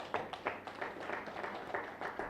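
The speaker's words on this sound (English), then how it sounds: "Let's clap our hands." Women at a SANTACO women's desk annual general meeting clap their hands together, a fairly quiet, scattered patter of claps with a few louder bursts, continuing evenly and heard from a little distance.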